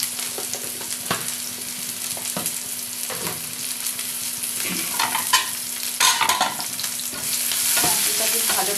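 Masala with chili powder being stir-fried in a pan for chicken Maggi, a steady sizzle broken by repeated scraping and clattering spoon strokes, close and fairly loud, with no talking.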